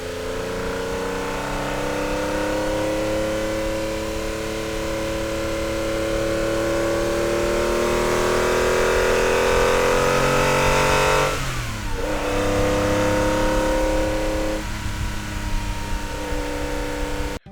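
A Porsche 997 engine fitted with a cold air intake, revving steadily and loudly up through the rpm range with a sharp gear-change dip near the middle, then pulling hard again.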